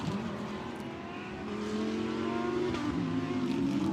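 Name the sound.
GT race cars rumbling down the pit lane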